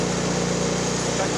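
Small engine of a Murray snow blower running after the first pull of the starter cord: an even, low droning hum with a steady pulse, close and constant for a moment, with no talk.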